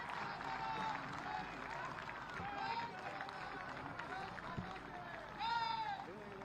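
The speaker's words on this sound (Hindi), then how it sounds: "जोरदार तालियां।" Crowd applause rings out at a police duty meet closing ceremony, a steady wash of clapping that swells and fades over several seconds while a voice speaks on top.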